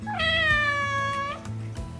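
Domestic cats of the Maine Coon and Ragdoll breeds meow close by: a clear, drawn-out tonal meow followed by lower, shorter mewing calls, alone without talk.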